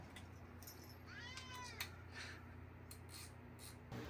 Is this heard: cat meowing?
yes